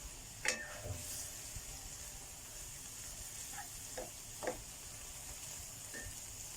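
A quiet, steady sizzle of fish stir-frying in a dry pan without oil, with a few light scrapes and clicks from stirring.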